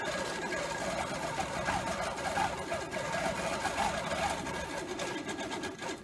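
A sit-down quilting sewing machine stitches slowly in stitch-regulated mode, giving a soft, steady mechanical whir with a faint rhythmic needle patter that holds evenly at moderate volume, with no talking.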